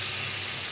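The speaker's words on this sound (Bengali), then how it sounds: "তো আমি অল্প সামান্য জল দিয়ে দেবো" A small splash of water is poured into a pan of Bengali egg curry. It makes a brief, steady, hissing pour that stays at an even loudness throughout, with no voices.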